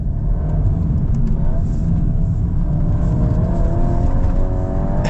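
A 2026 Volkswagen Golf R accelerating hard out of a corner, its engine note rising steadily as it pulls through the gears, heard from inside the car as a constant, close rumble with no talk.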